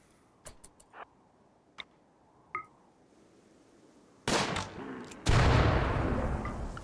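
In RimWorld, a few sharp, isolated gunshot cracks pop over near silence, then two loud, dense bursts of firing swell and hang on toward the end, with no talk.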